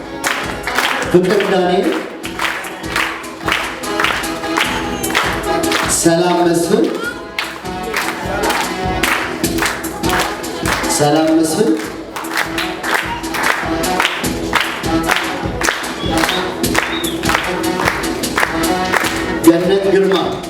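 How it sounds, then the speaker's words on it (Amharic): Steady, loud applause from an audience at a ceremony, continuous clapping for about twenty seconds while a voice reads names over it. "ጭብጨባ"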